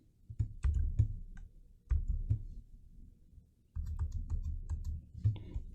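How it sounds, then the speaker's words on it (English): A computer keyboard clatters with bursts of quick, fairly quiet typing clicks and keystrokes, pausing between runs, with no voices. "I am just not having luck typing today."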